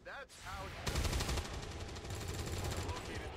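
Gunfire in the XCOM 2 video game: a voice first, then a rapid burst of automatic shots continuing in a dense rattling stream with loud booming low end.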